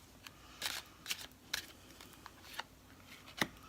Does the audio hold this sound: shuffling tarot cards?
yes